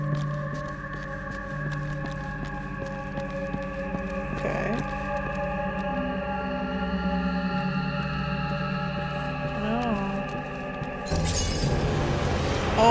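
Glass shatters in the video game Operation Raccoon City, a bright crashing burst near the end that breaks over a long stretch of droning, tonal in-game ambience with a low hum underneath.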